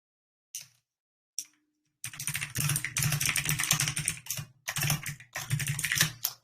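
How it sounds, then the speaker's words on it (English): Typing on a computer keyboard. Two isolated taps come first, then dense, rapid bursts of clacking keystrokes, close and fairly loud, separated by brief pauses. "I'm going to mute my keyboard here."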